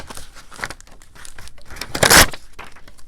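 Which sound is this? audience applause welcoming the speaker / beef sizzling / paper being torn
paper being torn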